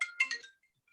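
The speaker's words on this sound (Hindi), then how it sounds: "एक मिनट मुझे फोन आ रहा है।" A short burst of a phone ringtone, bright electronic chirping tones that fade within half a second, then near silence with faint traces.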